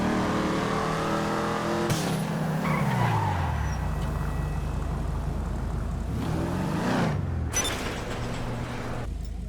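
Car engine in GTA V at night, a throaty roar rising and falling through gear changes with tire skids and sliding, loud and close, no talking.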